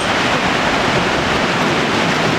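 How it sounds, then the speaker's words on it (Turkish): The Kapuzbaşı waterfall in Yahyalı, Kayseri, roars as a steady, loud, dense rush of falling water that fills the whole stretch without pause. "şırıl şırıl gürültüsüyle kulaklarımızı çınlatan ve neşelendiren Kapuzbaşı Şelalesi'ni görüyoruz."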